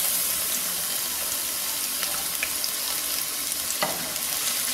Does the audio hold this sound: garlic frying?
yes